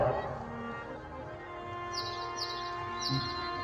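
Birdsong sound effect for a night scene in a narrated Hindu legend: a few short, bright chirps repeat toward the end over a sustained musical drone, fairly quiet.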